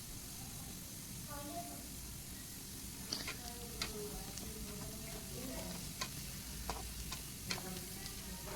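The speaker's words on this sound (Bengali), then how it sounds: "তেল গরম হয়ে গেছে, পেঁয়াজগুলো দিয়ে দেব" Sliced onions fry in hot oil in a home kitchen pan with a steady close sizzle, broken by a few sharp clicks and scrapes of stirring.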